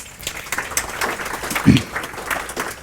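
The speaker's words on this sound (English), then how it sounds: "A round of applause, please." Applause from an audience at a fuel value chain and franchising summit rolls on as a steady wash of clapping, with a sharp bump midway and faint voices underneath.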